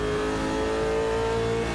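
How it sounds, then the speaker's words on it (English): A V8 car engine holds a steady high-revving note at full throttle, a continuous loud mechanical drone with strong harmonic whine, unbroken and without voices. "There's just something about the sound of a V8 that's on song."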